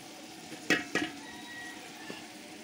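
Ginger garlic paste sizzling in a pan on a wood-fired clay stove, a soft steady fry with a couple of sharp clinks of a utensil against the pan.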